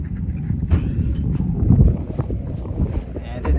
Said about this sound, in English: we're out here sailing